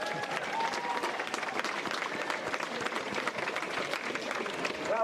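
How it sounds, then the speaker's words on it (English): A sustained wash of clapping rises from spectators at a Westmeath GAA senior football final, acknowledging the county board, steady and fairly loud from start to finish with a faint crowd murmur beneath. "Round of applause to the county board there as well"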